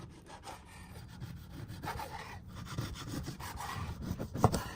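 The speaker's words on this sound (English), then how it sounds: "Cut the pork ribs into sections." Raw pork ribs are cut into sections on a board with uneven sawing and rubbing strokes at close range, building to a sharp knock near the end.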